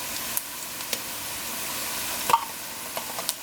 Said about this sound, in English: I'm going to add some tomato paste